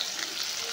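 Chopped onion and cumin frying in a pan for a homestyle fish curry, a steady, close, even hiss and crackle that runs without a break and with no voices.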